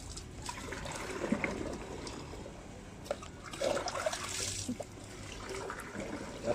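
Water poured into a 20-litre pump sprayer tank to mix fertilizer, a faint, steady trickling and splashing that swells slightly midway, quiet and without talk.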